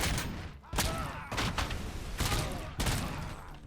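Heavy gunfire in RoboCop: Rogue City comes in four or five loud blasts spaced roughly every second, each with a booming low tail and ringing echo, over a busy game soundtrack.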